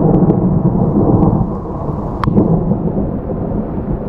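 Warm rain pours steadily outdoors on a cycling trail in the Kraków-Częstochowa Jura, with deep rumbling thunder rolling underneath and a few sharp drop hits, loud and continuous throughout.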